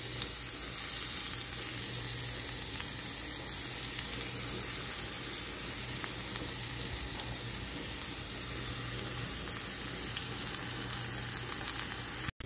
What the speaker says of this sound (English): There's the butter melting. And in goes the onions